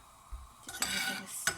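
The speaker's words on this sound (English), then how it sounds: "Just a little bit of stir." A spoon stirring spices into a vegetable samosa filling in a pan, soft scraping and a faint sizzle, with a couple of light clinks against the metal, close and quiet.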